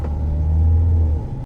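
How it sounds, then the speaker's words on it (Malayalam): A 2018 Mahindra XUV500 W11 diesel automatic launching hard in drive mode with wheel spin, a loud, close, deep engine rumble that holds steady before cutting off abruptly. "ഡ്രൈവ് മോഡ് ഇട്ട് ലോഞ്ച് ചെയ്ത് നോക്കി."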